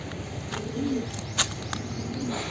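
Two faint, low coos from a black wild pigeon come a second or so apart, separated by a brief sharp tap, over steady outdoor background hiss.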